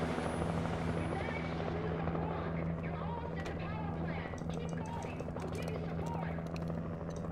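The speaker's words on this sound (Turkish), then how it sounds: "Aa, helikopter de geliyor." A helicopter in the Alan Wake video game drones with a steady rotor hum throughout, while people talk over it.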